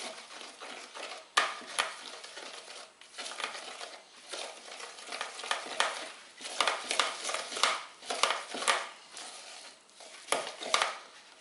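A spoon stirs a flour and water sourdough starter in a bowl, giving close, irregular sticky scraping and squelching strokes that grow busier and louder toward the end.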